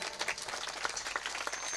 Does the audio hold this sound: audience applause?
yes